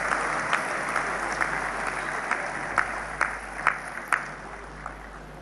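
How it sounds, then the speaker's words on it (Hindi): Steady applause fills a large hall at an urban development anniversary event, broad continuous clapping with a few sharper claps standing out near the end. "जरा सभागृह में और तालियां उनकी बहनों के लिए बन जाए"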